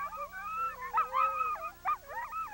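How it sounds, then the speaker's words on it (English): Several sled dogs whimper and yip in high, wavering whines that rise and fall, a close chorus with short howling swells and no talking. "They're called sled dogs. Because they pull you around on the sled."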